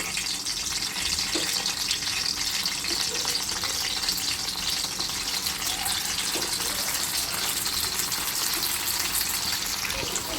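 Dried fish and gourd leaf fritters are dropped into a frying pan with a little oil, producing a dense, even sizzle that holds steady throughout, close and loud, with a couple of faint soft knocks under it.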